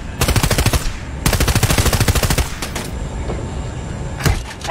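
Automatic gunfire in Battlefield 2042, two loud close bursts of rapid rhythmic shots separated by a brief pause, followed by a quieter tail and a single late shot, with no talk.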